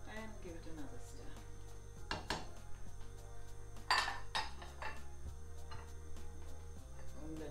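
A spoon stirs a homemade ginger wine mixture with raisins in a bowl, with scattered light clinks and knocks against the container over a low hum, near and moderately quiet.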